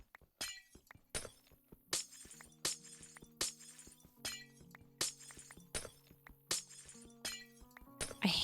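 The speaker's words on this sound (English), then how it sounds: "I hate breaking glass." Glass blocks shatter one after another in Minecraft, a regular series of about a dozen sharp crashes and clinks spaced under a second apart, fairly quiet, with soft placement thuds between them.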